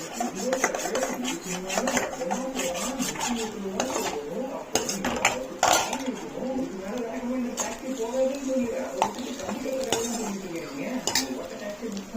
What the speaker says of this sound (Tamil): முட்டையை உடச்சி ஊற்றியாச்சு, நல்லா கிண்ட வேண்டிதான்.